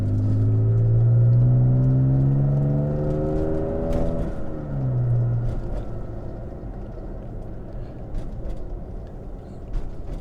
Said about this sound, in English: the highway's right there and we always have cars